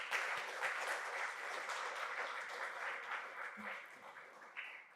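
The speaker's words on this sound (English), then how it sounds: "Let's give one more round of applause to Mr. Pressfield in honor of his poetry." Audience applause honoring a poet at a panel event on gender, justice and healing: continuous clapping from a crowd, steady and moderately loud, tapering slightly toward the end.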